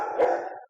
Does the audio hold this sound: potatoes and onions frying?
no